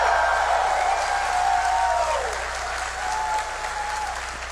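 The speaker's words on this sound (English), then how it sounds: "thank you for that genuine unpaid for applause" A large convention-hall audience at QuakeCon 2019, the 24th annual gaming event, claps steadily and loudly throughout, with scattered cheers and a murmur of voices mixed into the sustained applause.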